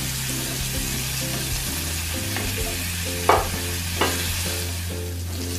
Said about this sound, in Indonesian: Kita tumis sampai aromanya harum.